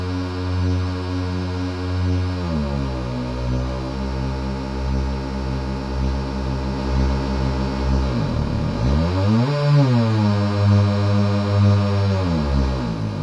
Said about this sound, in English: It's a supersaw.